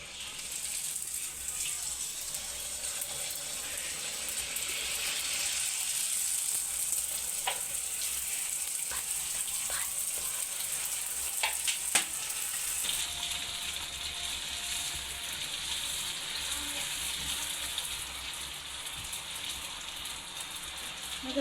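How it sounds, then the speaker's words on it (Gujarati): Pani puri puris deep-frying in hot oil, a steady broadband sizzle throughout, with a few sharp clicks and pops partway through and a slight drop in brightness later on. "તો આપણે તળી લેશું।"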